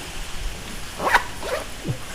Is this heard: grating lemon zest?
no